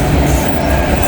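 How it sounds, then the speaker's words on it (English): A train rumbles past a siding on a rail line, steady and loud throughout, with dense low-frequency roar and wheel noise and no pauses. "we either got a high priority train coming south or something coming north."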